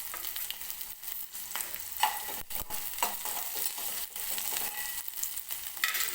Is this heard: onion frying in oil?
yes